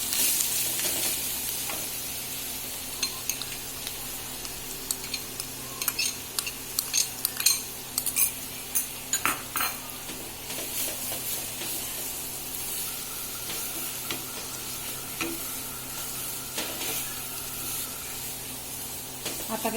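Beetroot stir-frying in a pan for a spiced beet bhaji: a steady sizzle runs throughout while a spoon scrapes and clinks irregularly against the metal, with no talking.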